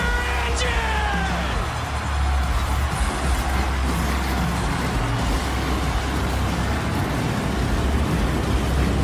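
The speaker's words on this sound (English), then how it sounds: "Gentlemen, start your engine!" Race truck engines roar at Talladega in the iRacing simulator, a dense, continuous motor drone that fills the whole stretch at high volume. Voices can be heard faintly under the engines.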